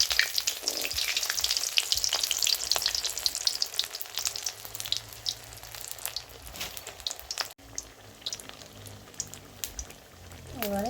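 Taro leaf fritters dropped into hot oil, a loud bubbling sizzle that crackles steadily and eases slightly after a brief break, with a voice heard faintly at the end.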